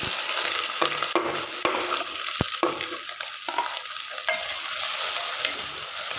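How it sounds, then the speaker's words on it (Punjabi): Cumin, chopped onion and green chillies hit hot oil and sizzle continuously as a spoon scrapes and clacks against the pan in irregular strokes, close and fairly loud, with no voice. "ਤੇਲ ਬਿਲਕੁਲ ਗਰਮ ਹੋ ਗਿਆ ਹੈ ਮੈਂ ਇੰਨਾ ਇਹਦੇ ਵਿੱਚ ਥੋੜਾ ਕੁ ਜੀਰਾ ਪਾ ਦਿੰਦੀ"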